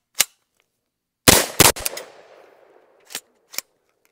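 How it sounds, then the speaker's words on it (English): 9mm rifle fitted with a Matador Arms upper firing outdoors, sharp loud reports: one shot, a quick rapid burst of three with a lingering echo, then two more spaced single shots. "Let's pull that trigger real fast again."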